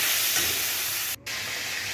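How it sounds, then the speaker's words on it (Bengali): Chicken sizzles steadily in hot spiced oil in a kadai, a continuous close hiss with a brief dropout partway through, no voices. "এর মধ্যে দিয়ে দেব চিকেনটা দিয়ে ভালো করে একটু ভাজা ভাজা করে নেব"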